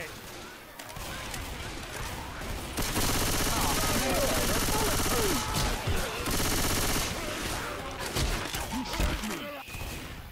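Bursts of gunfire from a Left 4 Dead 2 zombie-shooter match, rapid automatic volleys and single shots crackling loud and close through most of the stretch, with brief lulls between.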